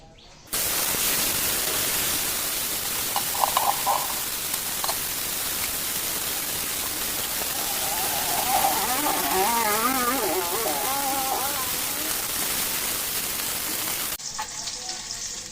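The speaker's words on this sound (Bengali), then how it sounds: "মাছগুলো ভাজি হয়ে যাচ্ছে।" Fresh bele fish, cut and cleaned, fry in a pan with a loud, continuous close-up sizzle and crackle that stays steady throughout, with no voices.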